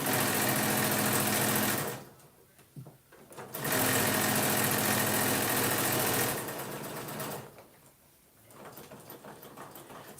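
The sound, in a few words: sewing machine top stitching a fabric sandwich wrap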